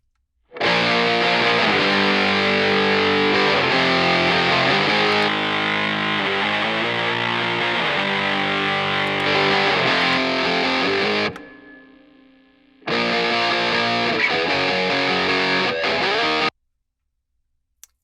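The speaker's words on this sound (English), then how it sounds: "the whole guitar submixes to the final guitar mix. So I'm gonna solo this, and we can be listening to the different parts" A thick distorted electric guitar mix, recorded through a Marshall amp, plays loud and sustained, cuts out for about a second and a half, then returns and stops abruptly.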